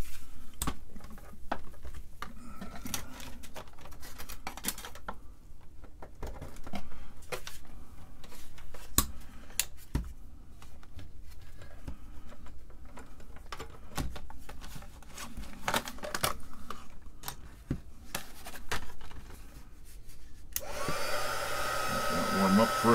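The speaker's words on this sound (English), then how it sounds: "Of course, for this we need the heat gun." Heat gun blowing hot air while dressing a wire end on a serial TTL card build for an Altair 8800, a steady close hiss under faint ticks and handling clicks, swelling louder near the end.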